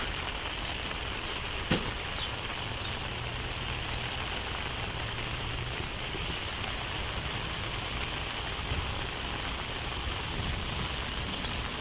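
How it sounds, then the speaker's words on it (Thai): Steady heavy rain pours down in a dense, even hiss, with a brief sharp tap near the start and no talking, as a street flooded slightly. "ฝนตกมาน้ำก็ท่วมนิดหน่อยจ้า"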